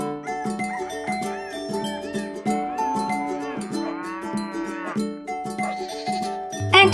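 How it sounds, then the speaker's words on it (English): A Merino ewe bleats repeatedly in loud, wavering calls that follow one another closely and fill the whole stretch. "The Merino Ewe."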